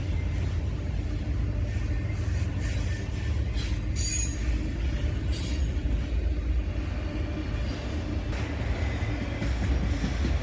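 A heavy CSX freight train hauled by GE diesel locomotives rumbles steadily past nearby, with continuous clattering wheels and occasional sharp squeals from the rails.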